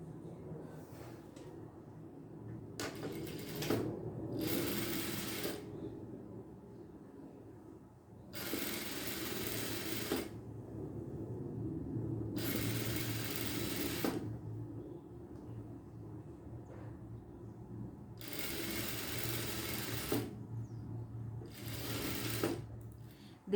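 A sewing machine stitches a safety seam fastening bias binding to fabric for a bread basket, running in several short and long bursts with brief pauses between them, close and steady.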